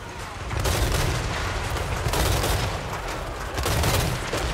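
Tank cannon fire in Total War: Warhammer 3 on a battlefield, a few heavy booming blasts amid rumbling battle noise, loud and close.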